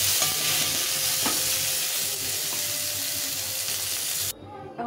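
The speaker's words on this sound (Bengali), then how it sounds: "ফুলকপিগুলো ভাজা হয়ে গেছে, ভালো করে ভেজে নিয়েছি।" Cauliflower florets fry in oil with a steady, close sizzle and occasional stirring scrapes, running loud until it cuts off abruptly near the end.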